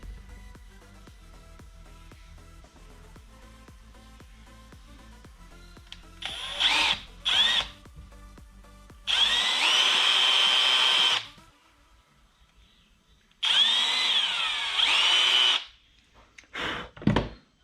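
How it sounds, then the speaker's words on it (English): A power drill whines in several separate bursts while drilling small holes in a cracked plastic car headlight, two short and then two longer, with quiet pauses and faint clicks between them. "and then we will drill"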